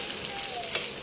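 Fried tofu and bean sprouts crackle in a pan while being stirred, a close continuous sizzle with a brief scrape of the utensil.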